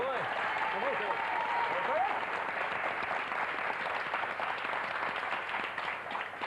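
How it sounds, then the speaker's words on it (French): A studio audience at a 1990 French television game show applauds with steady, moderately distant clapping, and a voice briefly sounds at the start. "On l'applaudit, s'il vous plaît."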